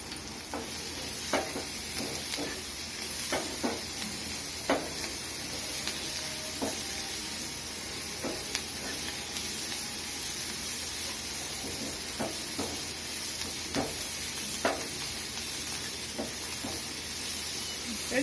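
Onions and chutney ingredients sizzle steadily in a hot pan for a long stretch, with scattered clinks and scrapes of a spoon stirring.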